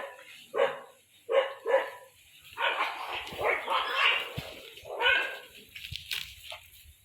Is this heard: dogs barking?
yes